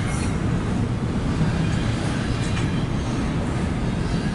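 A CSX double stack intermodal freight train passes on a westbound track, giving a continuous, dense rolling rumble with a faint metallic rattle throughout.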